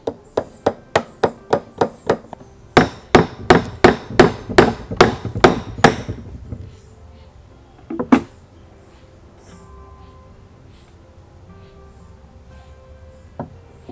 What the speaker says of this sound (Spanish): simplemente voy a clavar las dos piezas de esta forma